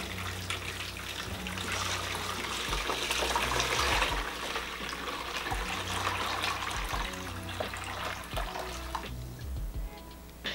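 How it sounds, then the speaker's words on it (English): Boiling water poured from a pot into a container makes a continuous splashing, gurgling stream that rises and falls for around nine seconds before tapering off. "So now that I have my boiling water, I'm gonna go ahead and just pour it into the container."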